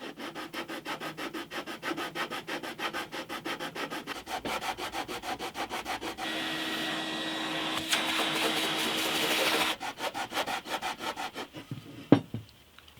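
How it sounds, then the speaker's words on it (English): Sandpaper rubs steadily against the wooden neck of a SuGar SG1 acoustic guitar being fitted for a truss rod, first in quick rhythmic back-and-forth strokes, then as a longer continuous scrape, close and fairly loud. "that's not sanding evenly, it's taking more off here than there"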